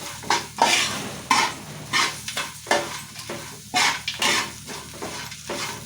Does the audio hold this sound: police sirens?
no